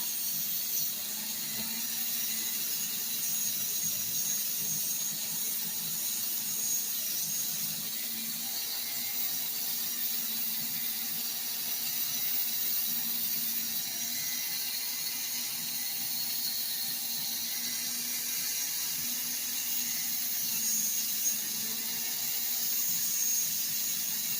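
A Dremel rotary tool polishing a piece of wire-wrapped jewelry, giving a steady, fairly quiet high-pitched whine with a faint low hum, running unbroken throughout with no talk.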